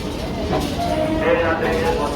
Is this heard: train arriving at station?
yes